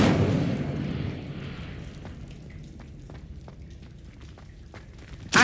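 An Incendio fire spell in Hogwarts Legacy erupts in a loud fiery burst that decays into a long rumbling tail, with scattered small crackles and a second sharp blast at the end.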